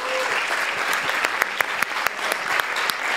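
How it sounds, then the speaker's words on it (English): An audience at a FameLab 2019 science communication event in Prague applauds their event organizer, a steady burst of many hands clapping with sharp individual claps standing out throughout, with no speech over it. "kindly have a large round of applause for our event organizer, Dasha Sefton from the British Council"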